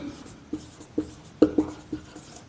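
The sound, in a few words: writing on a board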